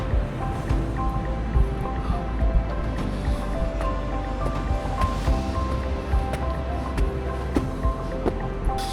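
Ocean waves wash steadily onto the beach at Sandy Bay, a continuous broad surf roar with periodic swells and some wind buffeting the microphone.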